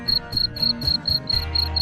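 Crickets chirp steadily in a breeding box, short bright pulses repeating in a regular rhythm, close and loud, with no talk over them.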